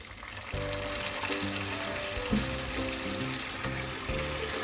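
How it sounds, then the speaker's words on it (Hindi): Half a cup of water poured into hot ghee and sugar in a pan sets off a continuous hissing sizzle, fairly quiet and steady with no one speaking. "आधा कप पानी डालेंगे"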